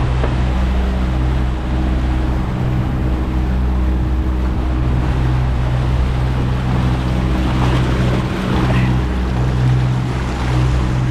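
Loud, steady drone of a Lagoon catamaran's twin motors running at a constant 1500 RPM, about 4.2 knots, with wind and water rushing beneath, no speech.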